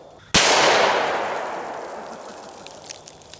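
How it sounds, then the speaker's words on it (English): A single loud, sharp shot from a Glock Gen 4 model 31 pistol firing a 125-grain full metal jacket 357 SIG round at an Atlas stone outdoors, followed by a long fading echo. "now let's hit it with a pistol round that's moving really fast"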